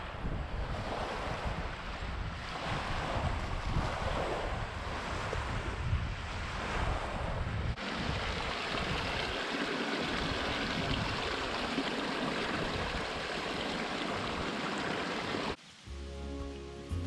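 Water at Crawford Pond on the Appalachian Trail, washing steadily against the shore in high wind, with a loud continuous roar of wind buffeting the microphone and a sudden cut near the end; no talk.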